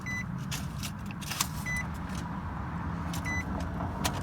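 A Nissan Altima engine idles with a rough, uneven rumble from a misfire, while faint chimes and small clicks sound in the cabin.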